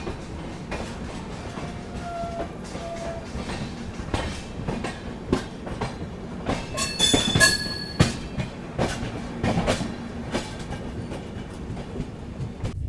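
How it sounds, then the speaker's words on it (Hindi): Heard from onboard, the 20504 Dibrugarh Rajdhani Express pulls away from Bareilly Junction with steady rumbling, rhythmic clickety-clack of wheels over rail joints, and brief metallic wheel squeals rising midway. "बरेली जंक्शन रेलवे स्टेशन से अपना डिपार्चर हो चुका है"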